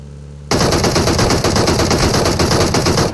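PUBG Mobile gunfire bursts in after a short lull: loud, sustained rapid automatic shots in a fast, even rhythm, close and dominating, with no talking over it.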